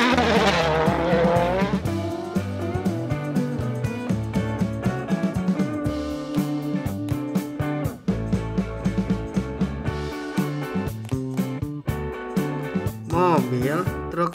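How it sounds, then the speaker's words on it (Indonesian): Race cars roar with revving engines, tire squeals and skids, loud and close and mixed with music-like tones, alongside speech. "Wow, ada mobil balap,"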